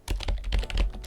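Quick, light keystrokes on a computer keyboard tap out a short file name in a rapid, uneven burst of clicks, close and fairly quiet, with no talking.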